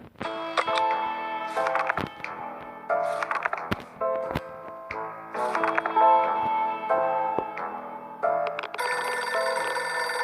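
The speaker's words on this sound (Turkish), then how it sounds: "telefon çalıyor acaba kim?" Telephone bell in the survival game 60 Seconds rings in repeated electronic bursts separated by short gaps, loud and close, mixed with bright game chimes and ticks and no speech over it.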